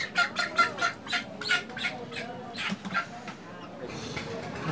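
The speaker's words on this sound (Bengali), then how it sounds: "একটা মুরগ দেন তো।" A chicken at a market clucks in a rapid, close run of about ten clucks, then quieter intermittent clucks, with people talking alongside.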